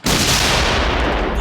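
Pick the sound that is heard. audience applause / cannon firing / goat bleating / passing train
cannon firing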